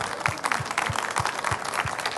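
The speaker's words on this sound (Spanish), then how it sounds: "vamos a darle un caluroso aplauso al doctor" Warm audience applause for a doctor after a talk on space research, a dense steady wash of many hands with a rhythmic clapping pulse running through it.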